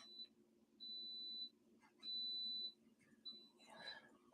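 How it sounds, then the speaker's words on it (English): Faint electronic beeps sound indoors, about four thin, high tones of uneven length with short gaps between them, ending in a brief rustle. "What is that beeping noise?"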